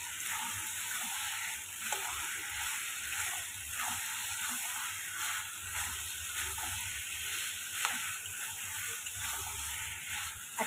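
Potato and pointed gourd sautéing in a pan give a steady, close sizzle, with faint scrapes and clicks of stirring scattered across it and no voices.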